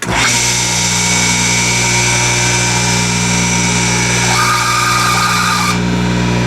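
A Hayward pool pump with freshly replaced, oiled bushings runs steadily and loud, a smooth motor hum with a constant whine, its tone shifting slightly near the end.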